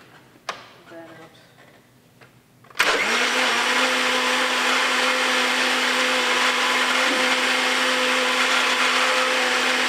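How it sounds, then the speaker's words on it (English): A countertop blender whirs loudly as it blends paper pulp for paper infill casting, its motor starting abruptly after a few quiet clicks and then running steadily and close up. "It's important not to leave it for ages in the blender because the motor can run out"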